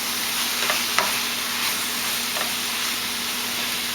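Leafy greens sautéing over high heat in a hot pan, a steady broadband sizzle running throughout with a few faint scrapes and taps as they are stirred.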